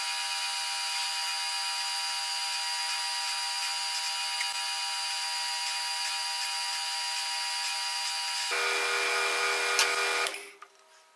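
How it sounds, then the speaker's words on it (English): A steady high electric whine runs for about ten seconds, shifts pitch briefly near the end, then winds down and stops: a power drill boring holes of two sizes in knife handle slabs. "gonna drill some holes in here, two different sizes"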